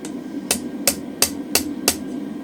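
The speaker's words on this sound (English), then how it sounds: "So for the 6mm I'm going to use a really light hammer." A really light hammer strikes a 6mm mild steel round drift during hand forging, five sharp metallic blows in a steady rhythm, close and clear with no talking.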